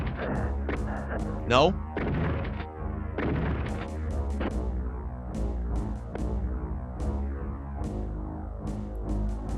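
Enemy gunfire from the SNES DOOM game, a run of sharp repeated shots and thumps of varying strength, one after another, with someone talking over parts of it.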